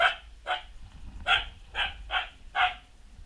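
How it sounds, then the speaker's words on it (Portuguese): Dog barking alone outdoors, six sharp mid-distance barks in an uneven rhythm over a low background rumble. "Quieto, cachorro."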